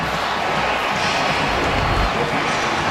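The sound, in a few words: stadium crowd cheering at Iron Bowl football game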